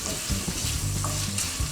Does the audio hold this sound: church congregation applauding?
no